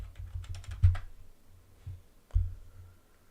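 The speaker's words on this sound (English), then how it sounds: "we could come up here and type in doxed" Keys are typed on a computer keyboard in a quick run of light clicks, then a heavier thump, a pause, and another firm keystroke, all close and fairly quiet.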